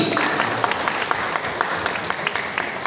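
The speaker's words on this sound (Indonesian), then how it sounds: "Tepuk tangan sekali lagi." An audience at a motivational talk on staying happy in old age claps steadily, with many individual hand claps forming a lively, even round of applause from start to finish.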